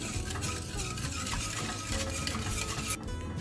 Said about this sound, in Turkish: sürekli karıştırarak koyulaşana kadar kahveli muhallebimizi pişirelim